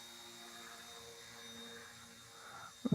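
An RC ERA C138 Pro stunt helicopter flies nearby with a steady whirring rotor and motor hum. The hum holds at an even level throughout, and a pair of louder bumps comes right at the end.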